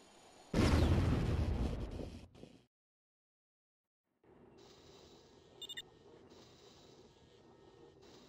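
A laser satellite strike in the strategy game Warzone 2100 erupts as a loud, broad blast lasting about two seconds, then cuts to silence before a low rumbling hum returns with a brief sharp chirp.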